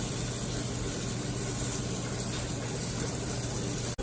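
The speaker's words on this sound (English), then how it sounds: "So we should hear a nice sizzle and pop." Steady, dense sizzling of salmon in an oiled pan fills the whole stretch, a constant crackling hiss with no talking.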